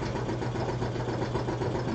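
Air compressor running steadily in a home workshop, a continuous loud motor drone with a low hum, no pauses.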